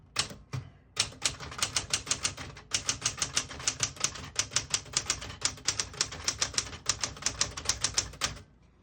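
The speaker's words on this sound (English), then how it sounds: "Beautiful typing machine." Rapid, steady clacking of the keys of a 1966 Smith-Corona Galaxie II portable typewriter, close and crisp, with a couple of brief pauses near the start and a steady rhythm throughout.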